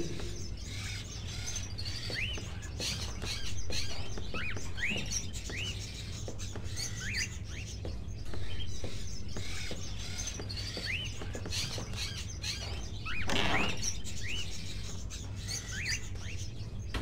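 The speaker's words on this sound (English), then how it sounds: "Are those crows in the cages?" Caged crows chirp and call in a video game scene set in an old rustic room, their repeated short cries overlapping over a steady low ambient hum, with a louder burst of calls near the end.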